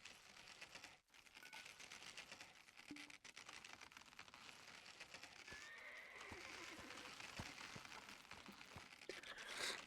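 A horse neighs and whinnies in a video game amid a busy, noisy game soundscape of clip-clopping hooves and clicky, keyboard-like tapping, fairly faint overall with a louder whinny near the end.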